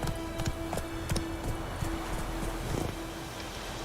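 Horse hooves clip-clop at a gallop in the Witcher 3 video game, a steady run of close hoof beats over a continuous game soundscape with a sustained tone.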